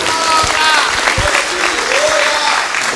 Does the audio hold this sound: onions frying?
no